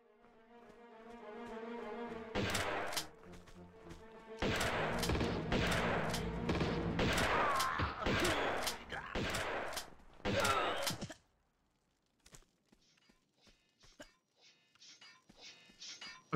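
Rapid bursts of shotgun fire from Tomb Raider II, dense loud blasts clustered across several seconds with brief gaps, then quieter scattered game sounds and faint echoes afterward.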